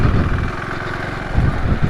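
KTM 390 Adventure motorcycle crawling off-road in second gear, a steady low engine drone with slight rises in throttle, close and continuous with no talk.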